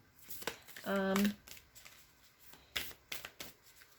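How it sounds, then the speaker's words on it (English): White light oracle cards being shuffled and pulled, a brief close crisp riffle of cards followed by soft flicks and rustles, with quiet gaps between. "I'm going to pull a white light oracle card for you."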